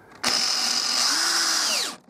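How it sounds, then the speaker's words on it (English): A cordless battery drill drives a bolt into the door panel of a 2004 Ford Fiesta mk5, one close, steady high whine that starts abruptly, holds for under two seconds and winds down as the trigger is released. "battery drill's a pretty quick and easy way of putting them in"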